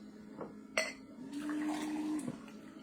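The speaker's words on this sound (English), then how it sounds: "I'm gonna pour this in the pint glass." Filtered coffee pours into a pint glass, a quiet steady liquid stream with a rising tone, framed by a soft clink of glass and a faint tap at the end.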